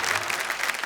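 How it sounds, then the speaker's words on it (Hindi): Audience applause at a live comedy and poetry stage show, a dense burst of clapping heard on its own without talk. "आपने मेरे सम्मान में इतनी जोरदार ताली बजाई"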